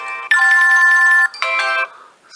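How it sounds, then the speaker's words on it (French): Classic ringtone playing from an HTC One mini phone: two loud, bright bursts of tonal melody, a long phrase then a shorter one, with nothing else around them. "Au niveau des sonneries, bon bah c'est les sonneries classiques."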